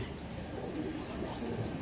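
Khoyra-necked pigeons coo softly in a short, low burst against a steady background hiss, with no talk.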